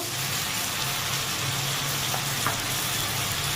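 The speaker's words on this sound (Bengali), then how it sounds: "জিরের গুঁড়ো সব দিয়ে ভালো করে একটু কষিয়ে নেব" Greens sautéing with turmeric, coriander and cumin powder in hot oil, a steady close sizzle with occasional stirring scrapes, no voices.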